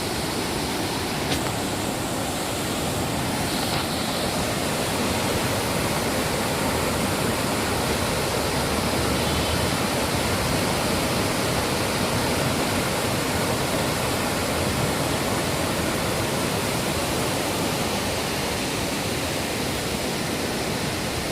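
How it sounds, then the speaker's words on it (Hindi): Fast-flowing water pours down from above at Sahastradhara in Uttarakhand, a loud, unbroken roaring wash that fills the scene evenly from start to finish. "बहुत तेज पानी आ रहा है।"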